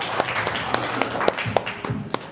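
A seminar audience claps on request after an impressive moment. There is a quick burst of uneven, overlapping claps, close and moderately loud, over background room noise.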